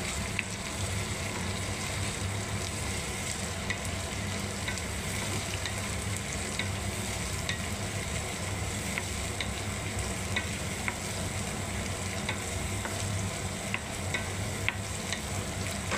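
Onion and tomato frying in a pan while being stirred, a continuous soft sizzle with faint scraping, moderately quiet and steady throughout, with no talk.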